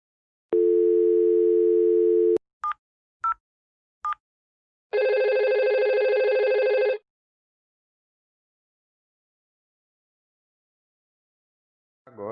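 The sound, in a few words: telephone dial tone and ringing during phone connectivity test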